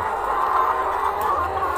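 Young laying hens cluck in a poultry coop, a continuous murmur of overlapping clucks close by with steady background noise and no talk.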